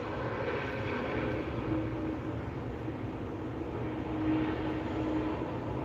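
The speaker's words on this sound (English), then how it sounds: "And then next taking off, another Airbus A220." A Breeze Airways Airbus A220-300 airliner taking off, a steady distant engine roar and rumble that swells slightly near the end, heard alone.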